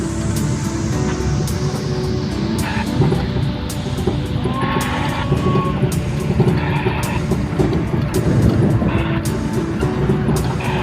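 A jeepney rolls over a brick-paved resort road, its engine humming steadily beneath a constant rumble of tires on uneven bricks, with frequent short knocks and rattles from the bumpy surface.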